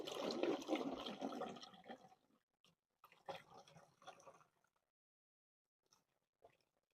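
Grape treatment solution is poured into a container, a close gurgling splash of liquid that tapers off after two seconds, followed by a few faint handling clinks and a soft trickle.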